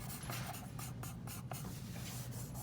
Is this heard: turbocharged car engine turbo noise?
no